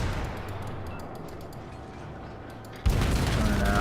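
Naval shellfire in the World of Warships video game, with a steady low rumble of distant gunfire, then a sudden louder burst of close impacts near the end.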